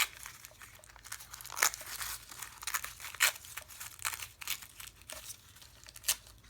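Paper being torn and crinkled by hand while making a card, with repeated rough ripping strokes and crisp bursts at irregular intervals, close and fairly quiet.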